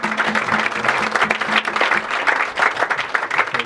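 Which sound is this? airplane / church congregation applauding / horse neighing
church congregation applauding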